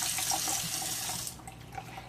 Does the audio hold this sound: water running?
yes